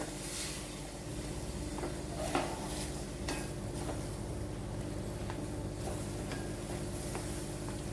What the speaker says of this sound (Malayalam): ഇനി നല്ലതുപോലെ ഒന്ന് ഇളക്കി പിടിപ്പിക്കണം